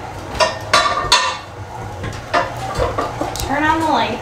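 Metal pots and pans clank and scrape as they are pulled out of a home oven before sourdough bread goes in, several sharp knocks and rattles up close, with a voice audible near the end.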